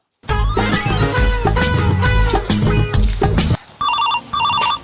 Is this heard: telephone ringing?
yes